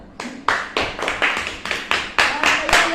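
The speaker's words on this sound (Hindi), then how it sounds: "तालियां बजा दो यार।" Rhythmic clapping in a Hindi-dubbed Doraemon cartoon, about ten sharp claps spaced steadily across the stretch, moderately loud and close, with no talk over them.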